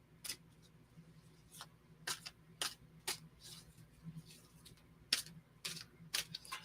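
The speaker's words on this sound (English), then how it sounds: "I have to do a cleansing shuffle" Tarot cards are shuffled and riffled in short, crisp bursts, with quiet gaps between the flurries of papery snaps.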